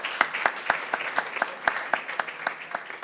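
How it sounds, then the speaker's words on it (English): Sparse, scattered hand claps from a small audience at a maritime technology conference panel, a dozen or so distinct claps spread over three seconds, moderately close and thinning rather than building into full applause. "A round of applause."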